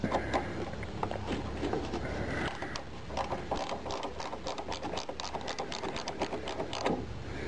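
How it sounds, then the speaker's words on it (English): A wrench works a nut on a car battery terminal during a Big 3 wire upgrade, giving close, steady metallic ratcheting clicks and scrapes that run for several seconds with no talk. "is take my wrench, come over here, put it on my nut."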